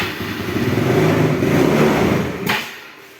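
A Yamaha Mio Smile motor scooter engine runs close up, a steady buzzing drone that rises slightly then fades after a brief sharp noise.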